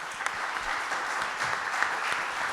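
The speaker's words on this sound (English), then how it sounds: "let's give Cora Leibig and Darren Lynch a round of applause" An audience applauds Cora Leibig and Darren Lynch at a Club E business meeting on CEO challenges: steady, dense clapping that stays even and fairly loud throughout, with no talking over it.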